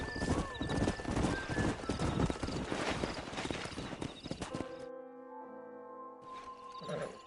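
Horse hooves clip-clop steadily in the Red Dead Redemption western video game, a dense rhythmic trot up close with a brief whinny and some game music toward the end.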